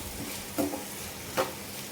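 Onions and green chillies with salt cooking in a pan, a faint steady sizzle with two brief stirring scrapes, no talking.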